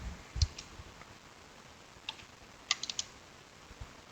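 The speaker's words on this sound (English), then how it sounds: "Such a typing disaster today." Faint keyboard typing, a few scattered key clicks followed by a short quick cluster of taps, in a quiet room.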